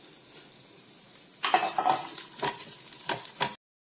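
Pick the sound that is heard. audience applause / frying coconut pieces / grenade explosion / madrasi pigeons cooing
frying coconut pieces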